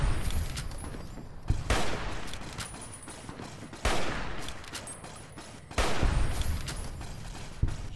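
Vance's 9mm submachine gun firing in Fallout: New Vegas: three loud bursts of rapid automatic gunfire at steady intervals, each trailing off into a reverberant wash, with no voices.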